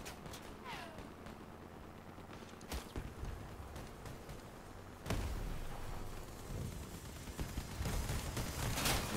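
Gunfire and weapon bursts from a vehicle combat battle in the game Crossout, with a nail gun among the weapons, as sharp repeated shots and impacts over a continuous mechanical drone, growing denser and louder midway.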